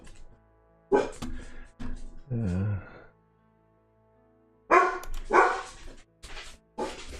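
A pet dog barks in several loud, close bursts, a few sharp barks then a pause before another run of rapid barks.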